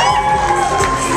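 Wedding guests cheer for the bride's sister at a reception, a loud mix of crowd shouts, whoops and high voices with a sustained tonal hum underneath, close and dense throughout.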